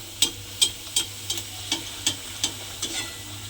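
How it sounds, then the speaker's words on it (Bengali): Pumpkin luchi frying in hot oil, a bubbling sizzle under a run of about nine evenly spaced sharp taps or stirring knocks close at hand, no talking. "এবারে আমি লুচিটা তেলের মধ্যে দিয়ে দেব। দিয়ে লুচিটাকে কিন্তু আমাকে ভালোভাবে ভেজে নিতে হবে।"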